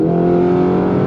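Lamborghini Urus engine pulling hard under high-speed acceleration, a loud, steady, close droning roar with rich sustained harmonics and no talk over it.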